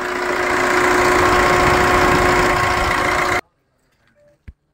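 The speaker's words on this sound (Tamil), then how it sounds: "இன்ஜின் இப்போ தான் ஸ்டார்ட் பண்ணி கோல்டு கண்டிஷன் தான் இருக்குது" A Fiat Punto engine idles right after a cold start, with a steady loud mechanical hum and whine that cuts off abruptly, followed by near silence and a single small click.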